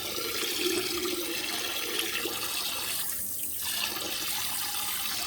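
A handheld bidet sprayer blasts a steady, loud stream of water, a continuous broad hiss and splash that holds for about five seconds with a brief dip midway.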